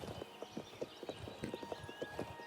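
Game horse in Oblivion trots across cobblestones, a short run of evenly spaced, faint hoof clicks in a quick regular rhythm.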